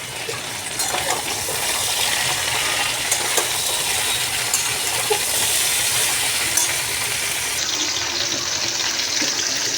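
Kochur loti and tomatoes dropped into a hot pan of oil with fried black cumin, a loud, steady, close sizzle and hiss that keeps going without a break.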